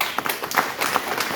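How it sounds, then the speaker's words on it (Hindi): An audience applauds for a speaker at a business achievers' event, producing a short burst of dense, moderately loud clapping. "और उनके लिए ताली बजा दीजिए"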